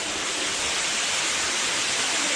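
Steady broadband rush of a waterfall inside a cave, a continuous, even roar with no breaks, fairly loud and close, with no voices over it.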